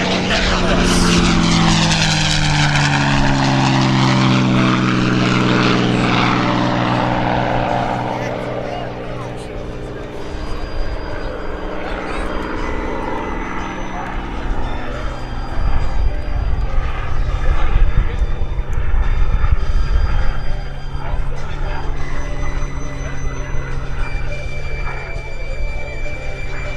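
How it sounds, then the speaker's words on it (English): A P-51D Mustang propeller fighter flies past at an airshow, its engine drone loud and sweeping in pitch as it passes, then continuing steadily with a public-address announcer talking over it. "In the legendary P-51 Mustang."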